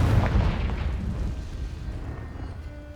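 A fiery Confringo spell blast in Hogwarts Legacy, a deep booming burst up front that rolls off into a fading rumble over a few seconds, with no talk.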